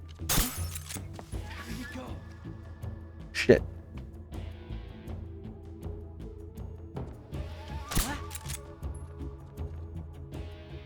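Glass shattering from gunfire in the video game Metal Gear Solid 3: Subsistence, two sharp crashes several seconds apart over a low ambient game hum.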